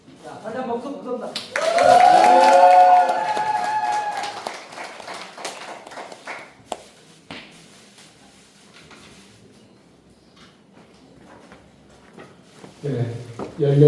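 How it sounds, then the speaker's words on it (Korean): Church seminar audience applauding for a pastor at a Korean evangelism seminar, a dense burst of clapping and a few voices building for several seconds, then thinning into scattered taps and quiet room noise. "자, 다시 한번 박수 부탁드립니다."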